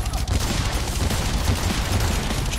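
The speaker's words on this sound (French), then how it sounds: "Je tire dessus comme un bourrin" Gunfire from Lollipop Chainsaw roars as a continuous dense barrage, loud and close for the whole stretch without a pause.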